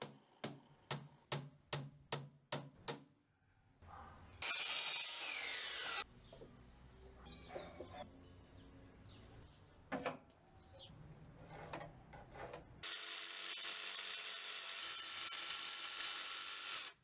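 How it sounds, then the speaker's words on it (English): Wooden trim for a cottage-style doghouse is sanded and worked by hand, first a run of evenly spaced rasping strokes, then rubbing and scraping, ending in a long steady hiss of a power sander close by. "Before gluing it, I sanded all the surfaces."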